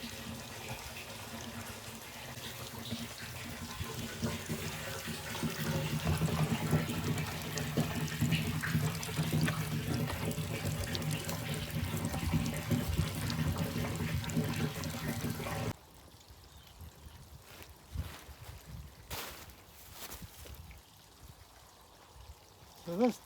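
A garden tap fitted with the wrong attachments gushes water in a steady stream for about sixteen seconds, then shuts off, leaving quieter background sound with faint talking.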